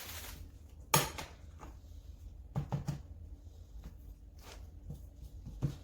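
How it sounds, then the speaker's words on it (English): A knife chopping through home-cured pork belly on a board, a few quiet, sharp knocks and taps spaced irregularly, one louder chop near the start and a short cluster of taps midway. "I'll just chop that bit off."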